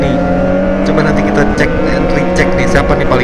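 A Kawasaki ZX25R motorcycle with a loud aftermarket exhaust idles and blips with a steady, buzzing drone, sitting among a group of other ZX25R bikes, while people talk over it.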